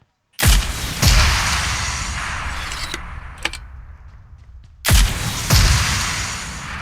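Grenade explosions in the mobile battle-royale game PUBG Mobile: two heavy booming blasts with long rumbling decays, then a quieter stretch with faint clicks and a sharp crack, then two more loud booms close together near the end.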